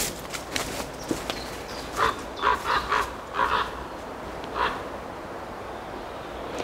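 Birds living in an old, dark, moss-covered brick building call in a few short, separate bursts from a moderate distance over quiet, hissy background ambience.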